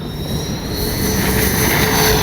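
Flightline OV-10 Bronco RC model airplane flying past at full throttle, a loud steady whine of electric-driven propellers with a buzzing high tone, building slightly as it passes close by, no talking.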